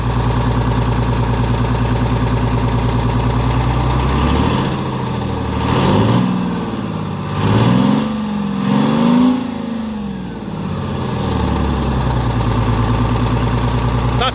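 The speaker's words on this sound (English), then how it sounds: "Give it some throttle." A 4104 bus engine idles steadily, then revs in several throttle blips that rise and fall before it settles back to a loud, close idle.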